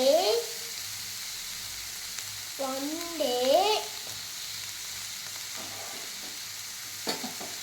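Onion sautéing in a pan for potato masala, a soft steady sizzle with occasional stirring scrapes, under brief bursts of a high singing or whistling voice near the start and middle.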